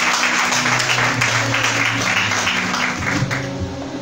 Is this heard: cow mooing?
no